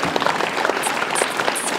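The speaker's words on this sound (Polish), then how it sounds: "Coś cieniutkie te brawa" Thin, sparse applause from a small outdoor audience at a horse-drawn carriage competition, a light patter of scattered claps running steadily throughout.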